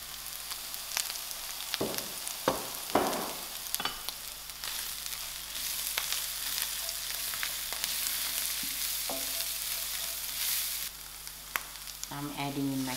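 Ground spices and masala sizzling in hot oil in a pan for spicy prawn chutney, a steady close frying hiss with a few scraping stirs and clinks, no talking.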